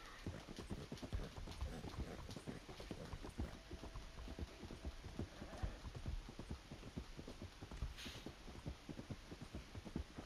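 Rapid, steady hoofbeats clip-clop throughout, a dense rhythmic patter of a horse on the move in the video game Red Dead Online, with a faint hum underneath.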